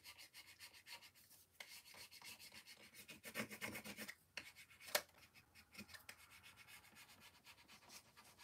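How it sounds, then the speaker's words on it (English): Close, quiet scraping and rubbing as a craft rub-on transfer is burnished onto a surface, steady back-and-forth strokes with a brief sharper scratch midway, no talk. "See, I'll rub it this way so you guys can see"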